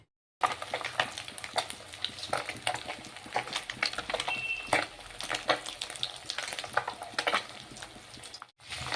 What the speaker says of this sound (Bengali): আমি মাছ ভেজে নিচ্ছি